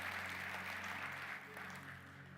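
Church congregation applauding on Christmas Sunday for a departing mayor, a quiet, even patter of many hands that eases slightly partway through.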